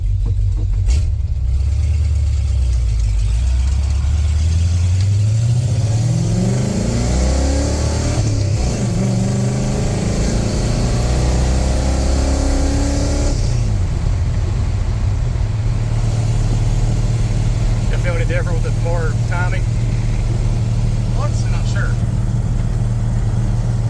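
1986 Ford F150 with a 351W V8, NP435 manual gearbox, long-tube headers, X-pipe and glass pack exhaust on a drive; a steady engine drone rises and falls through gear changes and a downshift, loud and close, with people talking over it.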